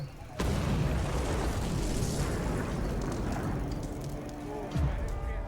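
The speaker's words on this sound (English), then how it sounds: "When there's an explosion." A bomb blast in a history documentary about secret revolutionary bomb-makers in late imperial China erupts suddenly into a loud, sustained roaring rumble that fills several seconds, with a second thump near the end.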